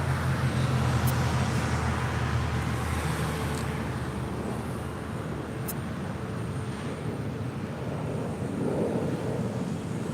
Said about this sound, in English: coming in from Orlando, Florida, American Airlines Flight 880 in this A321neo